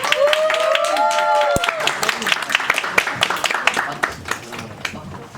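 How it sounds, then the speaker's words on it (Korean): An audience claps and applauds at a small group chat concert in a hall, the sharp irregular claps building after a brief musical or electronic tone fades, while a host's voice speaks over the start. "큰 박수가 필요해요, 여러분들."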